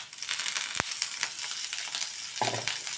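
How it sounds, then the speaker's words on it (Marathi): Drumstick pods sauté in hot oil with turmeric and salt over lowered gas, giving a steady close sizzle with a sharp tap near the start and a brief stirring scrape near the end. "आता हळद आणि मिठामध्ये शेंग थोडीशी परतून घेतली ना तर शेंग खाताना ना आळणी लागत नाही"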